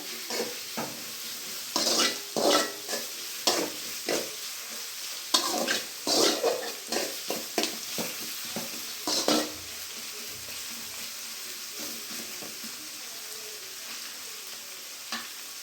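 Onion, cabbage and chillies frying together in oil in a pan for egg rice, with soft sizzling under repeated scraping stirs that come in bursts, close by and without speech.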